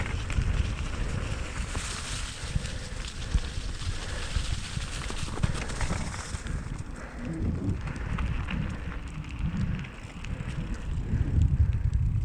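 Mountain bike riding a wooded trail at Gay City State Park just before a snowstorm, with steady tire rumble and rattling over dirt and leaves, wind buffeting the microphone throughout, continuous and fairly close.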